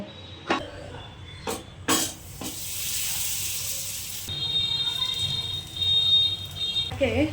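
Soaked food coloured with turmeric hits hot oil in a pan with a few knocks, then breaks into a loud, hissing sizzle that settles into a quieter fry. Someone talks over it.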